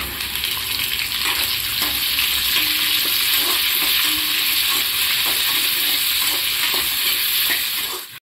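Steady crackling sizzle of mustard seeds and spices tempering in hot oil, continuous and close, with no talking.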